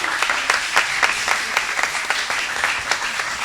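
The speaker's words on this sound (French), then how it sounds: "Monsieur Jean-Élie Romain, sur vos applaudissements, s'il vous plaît." An audience at a school quiz match applauds the jury president, dense steady clapping from a crowd filling the hall for the whole moment.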